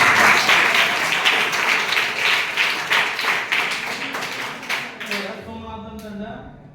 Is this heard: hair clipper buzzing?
no